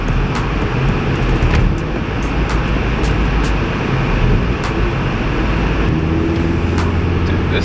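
A ninth-generation Honda Civic Si on its stock exhaust drives along in cold weather, a continuous loud engine and road drone with steady tire rumble throughout and no talking.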